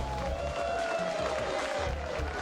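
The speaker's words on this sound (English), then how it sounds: "please continue making noise for the host of the evening, Stacey Hallal" An audience at an improv comedy show cheers and whoops for the evening's host, a dense, steady crowd roar with a high whistle-like tone running through it, sustained and fairly loud throughout.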